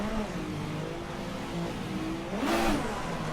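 A drift car engine revs in a throttle blip up to maximum RPM, a rising, close and loud roar that peaks and falls back after a steady idle-like drone.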